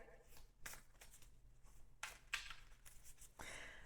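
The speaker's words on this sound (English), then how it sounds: "While I'm shuffling" Oracle cards being shuffled by hand during a tarot-style reading, soft papery riffles and slides in short bursts, fairly quiet with faint background noise.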